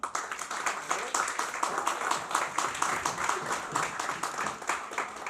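Sustained clapping from a crowd at a company New Year and birthday party, applauding the firm's leaders, with dense, even claps running steadily throughout at moderate distance.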